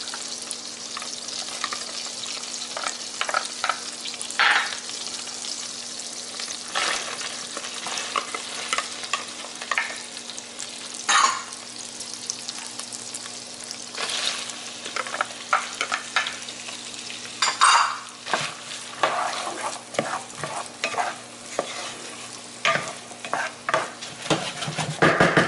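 Corn, pepper and garlic sizzle and fry in butter in a pan, a steady crackling hiss broken by repeated stirring scrapes, close and fairly loud with no talk.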